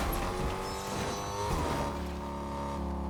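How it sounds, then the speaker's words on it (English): A car engine droning steadily in Fortnite, its tone sliding up and down as it drives on, loud and continuous with no talk. "I'm making a lot of noise with the car"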